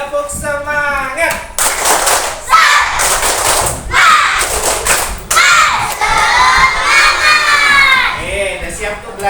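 Schoolchildren in a classroom perform a rhythmic clapping cheer, the tepuk semangat, with bursts of loud claps and excited shouting voices, led by a singing adult voice.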